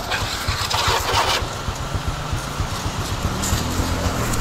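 Motorcycle engine cranking and catching, a rapid rhythmic chugging that settles toward a running idle, close and moderately loud with no talk.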